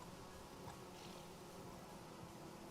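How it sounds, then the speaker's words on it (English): A steady, close insect drone of buzzing bees in the Vintage Story game, continuous and even throughout with no talking. "oh, bees."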